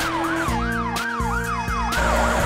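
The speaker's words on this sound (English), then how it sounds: "police car," A police car siren rises and falls in a repeated wailing cycle, loud and continuous over a steady musical backing in a children's nursery rhyme.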